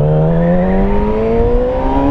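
A 2008 Yamaha YZF-R6 sport motorcycle engine revs up close and loud, its high-revving inline tone rising steadily in pitch across the clip.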